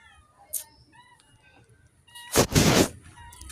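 A pet cat gives a couple of short meows at close range, followed by a loud rustling thump, with quiet speech faintly in the background.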